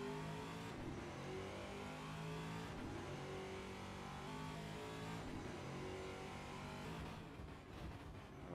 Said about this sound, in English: Cotter really throwing around this TA2 Mustang.